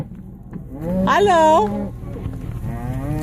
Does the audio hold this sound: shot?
no